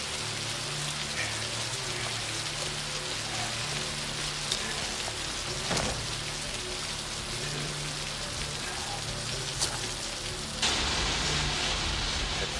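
Steady, dense rain falls and patters on surfaces, a continuous hiss with occasional louder drops, constant throughout with no voices.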